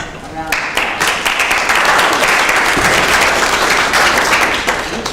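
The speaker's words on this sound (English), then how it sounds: "join me in just giving all of our partners a round of applause." An audience at a congressional staff briefing on de-escalating violence breaks into loud, sustained applause after a brief quiet start, with dense clapping filling the rest of the room.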